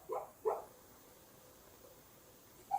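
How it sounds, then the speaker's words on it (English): A sleeping dog barks in its dream indoors, two soft muffled woofs close together, then a quiet stretch and one more faint yip at the end. "My dog is having a dream and she's sleep barking."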